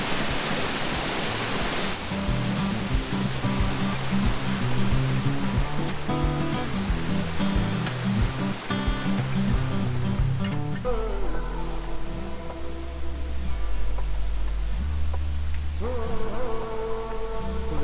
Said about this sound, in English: This little stream combines with that little stream.